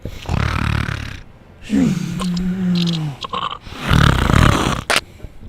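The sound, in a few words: person imitating snoring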